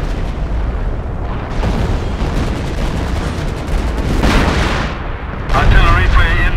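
Artillery fire in the Company of Heroes game, with a 1944 bocage setting: heavy, rolling booms and blasts layered over continuous battle noise, building to louder bursts near the end, with voices shouting over the din.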